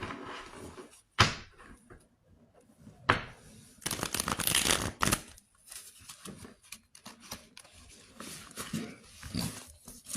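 Tarot cards are shuffled and handled in bursts of rapid riffling and papery slaps, close and fairly loud, separated by quieter pauses with small knocks and rustles.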